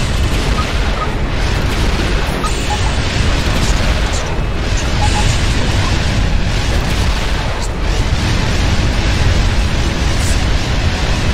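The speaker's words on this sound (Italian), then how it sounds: "Io non sto sentendo niente per via delle esplosioni dei colpi di Asura, ovviamente" Continuous roaring barrage of explosions from Asura's attacks in the Asura's Wrath video game, dense booming blasts layered into a loud, unbroken wall of noise with no clear gaps.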